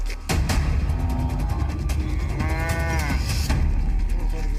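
A buffalo moos loudly and close by, one long drawn-out lowing call over steady background noise, with no talk.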